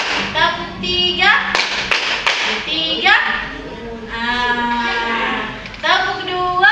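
A group of students in a classroom guidance session claps in short counted bursts, sharp close claps alternating with spoken instructions and children's voices between the rounds.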